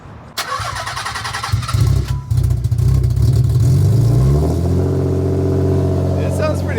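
A non-turbo Nissan 300ZX Z32 with a VG engine cranks, fires up and revs before settling into a steady, rumbling idle close by.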